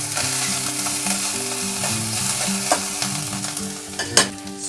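Whole spices for tempering and a pinch of ginger hit hot oil for strawberry chutney, giving a steady close sizzle with occasional stirring clinks, while soft background music plays underneath.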